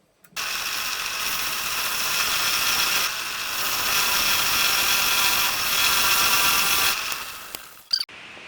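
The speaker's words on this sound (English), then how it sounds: "let's see if we can't get started on doing a little bit of hollowing here" A wood lathe spins a 257-year-old chestnut bowl blank as a gouge hollows it, giving a steady, loud whirring cut that runs continuously with slight shifts before stopping abruptly near the end.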